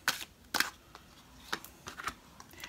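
A deck of cards shuffled by hand during a card reading: several quick, crisp riffles and snaps in irregular bursts, quiet and close, with no talking.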